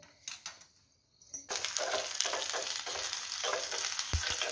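Mustard oil simmering in a pan for an Ayurvedic rub, a steady close sizzling hiss with soft bubbling that starts after a few faint clicks and continues evenly to the end.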